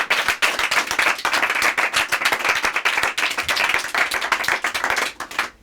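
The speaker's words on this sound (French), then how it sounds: "Merci beaucoup, applaudissez à nouveau Cécile, s'il vous plaît." Mentalist show audience gives Cécile a round of applause: dense, sustained clapping from many hands, loud and close, running steadily before thinning out at the end.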